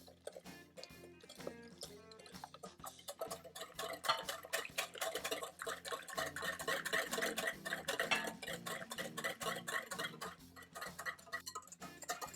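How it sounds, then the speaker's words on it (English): Milk being whisked into a creme caramel custard mixture, rapid close clinking of a whisk against a bowl in quick irregular strokes, growing busier and denser midway. "and I will whisk"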